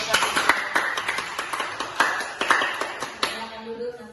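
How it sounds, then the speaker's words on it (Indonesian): A small classroom audience claps for a student presenter, a sparse, uneven scatter of hand claps lasting a few seconds before fading, with talk heard alongside. "kita berikan aplaus kepada saudari Natasha"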